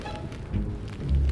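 In a Boonie Bears cartoon, a hailstorm pelts down in a brief burst of rattling, pattering ice while low thunder rumbles and swells beneath it.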